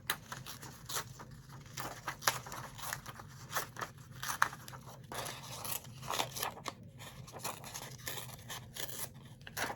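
Paper torn up by hand for a junk journal, soft ripping and crinkling strokes in an irregular steady stream, close and fairly quiet.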